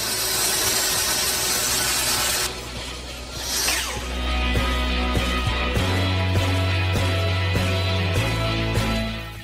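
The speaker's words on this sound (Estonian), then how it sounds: "Muidugi saab seda teha ka saepingil, kus 5 kraadi nurga all seadistame nii ketta, kalde kui ka nurkjuhiku." A power saw whines and cuts wooden posts at an angle, its motor droning loudly over steady mechanical humming with no voices.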